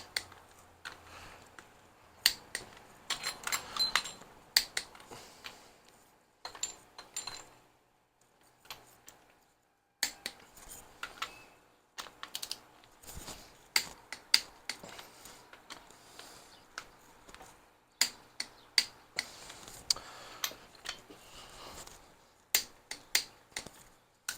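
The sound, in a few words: torque wrench tightening Ford 302 cylinder head bolts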